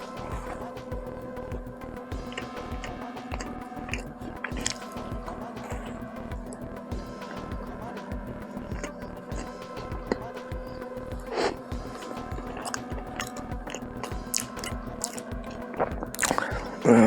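Someone chews and bites through a Dunkin' chocolate glazed donut during a dozen-donut eating challenge, close soft squishy mastication in a steady rhythm with occasional small clicks, no speech.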